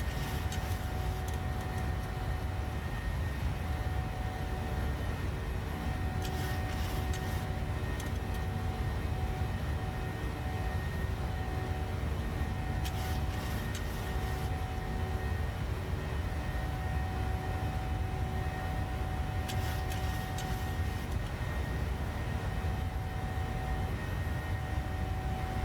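Airliner engines climbing in Microsoft Flight Simulator 2020, a PMDG model in flight, giving a constant deep roar with steady tonal whine over the full length and a few brief higher rattles, no talk.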